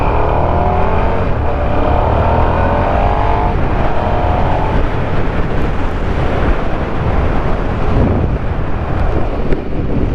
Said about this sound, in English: It is a stock exhaust, so it probably sounds really shit through the mic